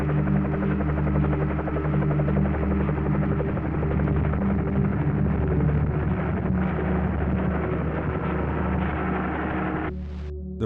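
Helicopter flying a 30-mile trip out to Observation Island, a steady loud rotor thump and engine drone holding throughout, ending with a brief change near the close.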